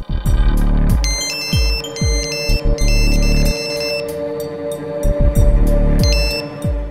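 Prologic SNZ carp fishing bite alarm receiver sounding repeated electronic beeping tones in short bursts and chirps, loud and close, over a low background hum with no talking.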